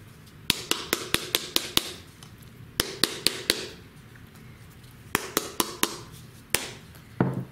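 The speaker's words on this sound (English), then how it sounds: "You want to tap all the sand out." A dry rawhide rattle is tapped to knock sand out, sharp close knocks in quick bursts of five to seven evenly spaced hits, separated by short pauses, with a faint shake of loose grains at the end.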